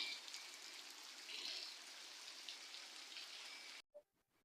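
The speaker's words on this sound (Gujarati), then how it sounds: "એટલો વરસાદ આજે આવ્યો," Heavy monsoon downpour on a stormy day hisses steadily as a dense wash of raindrops on surfaces, then cuts off abruptly near the end, leaving a few faint knocks.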